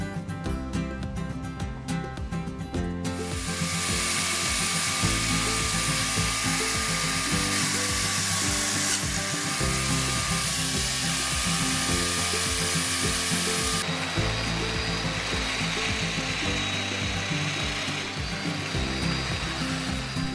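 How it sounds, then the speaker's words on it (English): Domino joiner plunge-cutting mortises into wooden shelf pieces for a modern side table, a loud steady motor whine with a rattling mechanical chatter running nearly continuously close up, with no talk. "use a domino to set the position"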